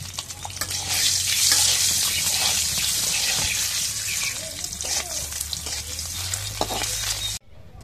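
Country chicken eggs fry in a pan for an eggplant dish, giving a steady, loud broadband sizzle with occasional stirring scrapes that runs nearly the whole time and cuts off sharply near the end.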